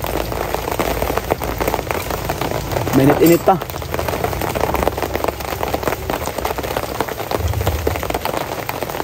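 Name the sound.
rain falling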